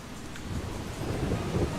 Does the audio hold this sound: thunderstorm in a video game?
yes